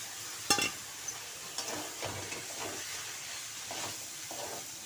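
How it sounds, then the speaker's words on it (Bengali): Potatoes and pointed gourd dropped into a spice paste frying in a pan: a sharp clatter as they land, then a steady sizzling hiss with a few scattered stirring knocks. "এখন আমি আলু পটল দিয়ে দেব।"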